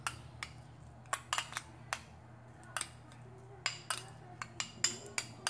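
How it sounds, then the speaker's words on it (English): Butter, garlic and parsley being stirred together in a bowl as a topping for lobster tail, heard as a series of light, sharp utensil clinks and taps against the dish, irregular and fairly faint, with no talking. "Then we're gonna go ahead and give it a good mix."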